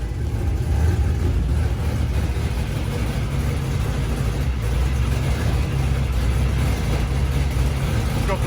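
LS-swapped Mazda Miata engine running with a rough idle just after its first start, a steady, loud, low rumble that holds throughout without a break.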